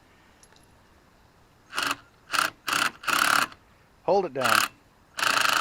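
Socket ratchet turning lug nuts off a 1979 K20 truck during a mudding tire change, several short bursts of rapid clicking close up, separated by pauses, with a brief spoken instruction between.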